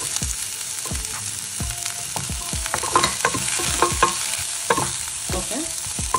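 Chopped onion and capsicum sizzle in a pan. The frying hiss runs continuously while a spatula scrapes and stirs in irregular bursts, close and fairly loud, with no talking.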